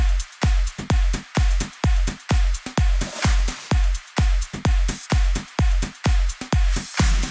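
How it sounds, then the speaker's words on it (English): Punchy electronic drums pound out a steady, driving beat, with heavy kicks and snappy hits repeating evenly at close range and no voices. "let's talk about the drums in the drop."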